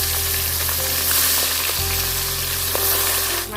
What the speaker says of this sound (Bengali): প্রথমে মাছের মাথাগুলো ভেজে নেব